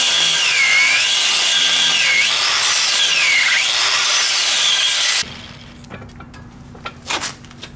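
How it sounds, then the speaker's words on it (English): A power tool cuts off outside welds and grinds a metal piece, a loud high whine rising and falling for about five seconds, then stopping abruptly into a low hum with a few scraping clicks. "I'm going to cut these outside welds off now and then grind on this piece"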